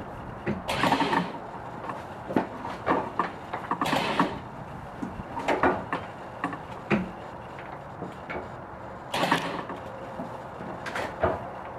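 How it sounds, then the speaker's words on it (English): A winch pulls a milling machine being moved by hand, producing a series of irregular clanks, ratcheting clicks and scraping bursts, close and fairly loud, with quiet pauses between the pulls. "So I'm using the winch for safety"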